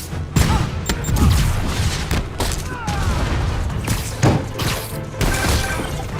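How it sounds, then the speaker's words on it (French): Bursts of gunfire crack out in irregular volleys in the Spider-Man video game, some sharp single shots and some clustered, loud and close, with booming impacts between. "on nous signale des coups de feu"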